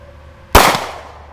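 A single sharp gunshot cracks out nearby during casual target shooting, a sudden loud blast that decays quickly into a short ringing tail, with no talking.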